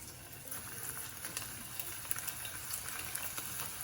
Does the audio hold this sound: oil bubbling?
yes